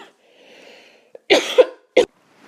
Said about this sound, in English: I picked up on a little coughing fit there